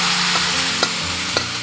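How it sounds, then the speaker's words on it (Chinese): Braised meat and soup for an eggplant and tofu dish poured into a preheated clay pot, a steady loud sizzle with a couple of short clinks alone. "关火，直接连肉带汤的倒入砂锅里"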